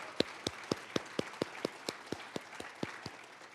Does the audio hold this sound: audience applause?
yes